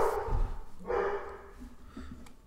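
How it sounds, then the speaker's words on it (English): An American Bully dog barks in the background at night, a few muffled barks near the start and again around one second, fairly faint and somewhat distant. "my dog's barking in the background"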